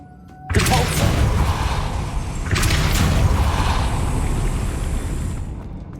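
Depulso spell cast in Hogwarts Legacy: two loud booming blasts with whooshing bursts, one right away and a second a couple of seconds later, each trailing off into a sustained rumbling roar.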